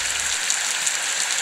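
Steady rain falls in the Roblox game Welcome To Bloxburg, a continuous hiss with faint scattered drops and no talking.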